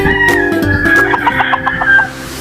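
Bred chickens at feeding time give a loud, close burst of clucking, with a drawn-out crow-like call, then a quick run of clucks and squawks, with no talk.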